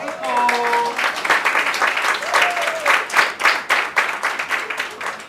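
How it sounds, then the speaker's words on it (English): Audience at a real estate event for African women claps for a speaker, a continuous burst of applause with distinct individual claps, moderately loud and steady for about five seconds, with faint voices or tones early on. "Another round of applause for her."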